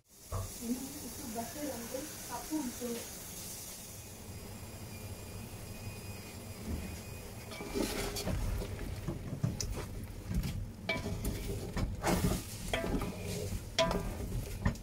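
Mutton dalcha vegetables cooking in a pot on the stove give a soft hiss and bubbling that swells louder partway through, with intermittent stirring clatter and a voice talking early on.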